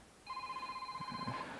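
A phone rings faintly beside a fishing spot, one steady electronic tone lasting about a second over soft outdoor background noise.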